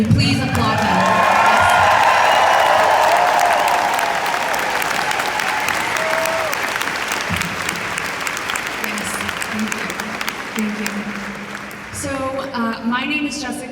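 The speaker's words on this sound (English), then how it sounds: "Can we please applaud them?" A large crowd of supporters at a Seattle political rally applauding and cheering loudly, the clapping slowly fading over several seconds while voices and a few whoops rise through it, ending with someone speaking.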